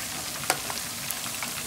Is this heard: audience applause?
no